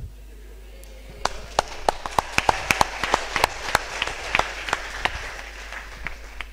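An audience at an Indonesian literacy award talk show claps sparsely. Separate sharp claps pick up and scatter over a few seconds against a low room hum, with some faint voices in the background.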